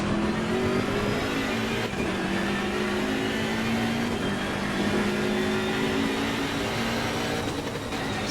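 Sim racing video game car engine revving up against the rev limiter in wet conditions, a loud sustained whining drone with stepped rises in pitch, alone with no talk.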